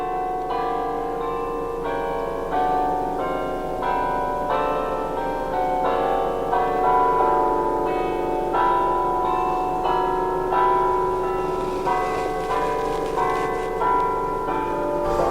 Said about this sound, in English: maybe I'll let you listen to the church bells for a little bit there